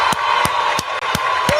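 A crowd cheers and whoops loudly and continuously, punctuated by five evenly spaced sharp hand claps, all close and dense with no separate talk.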